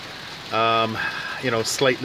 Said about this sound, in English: It's cold rain here.